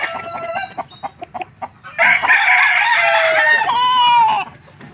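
A rooster gives a few short clucks and then one loud, drawn-out crow close by, fading into quiet at the end.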